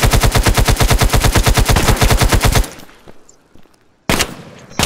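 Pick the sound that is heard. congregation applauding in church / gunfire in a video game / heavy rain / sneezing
gunfire in a video game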